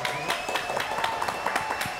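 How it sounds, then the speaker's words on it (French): Brief audience applause at a French TV show taping, a quiet patter of many hands clapping that sounds somewhat distant, with a faint steady tone running underneath. "applaudissements"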